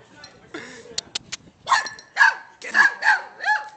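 Boxer dog barking in short bursts during rough play, several sharp yips and barks close by, with people's voices cheering and talking over the play.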